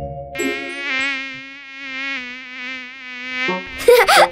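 A cartoon mosquito buzzing: a close, loud, whining drone that wavers in pitch for about three seconds, then cuts off into a brief burst of other noise.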